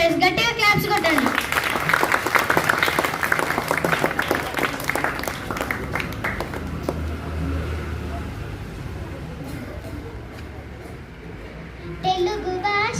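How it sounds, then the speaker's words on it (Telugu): Children and adults clap together for a prize at a government school celebration, a dense, lively burst of applause for several seconds that fades out, with kids' voices and chatter mixed in. "గట్టిగా క్లాప్స్ కొట్టండి."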